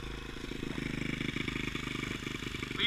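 Small rebuilt pit bike engine idling close by, a steady rapid low putter with even pulsing firing beats throughout.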